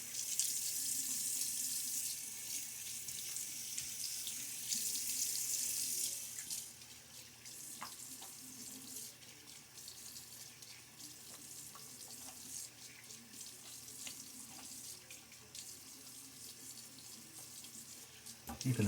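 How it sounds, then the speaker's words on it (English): Tap water runs steadily into a bathroom sink while a face is rinsed after a shave, loud and close for several seconds, then continuing at a lower, softer level. "Get a good rinse on my face."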